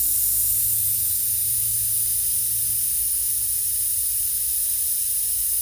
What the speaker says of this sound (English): we're gonna deflate the front tire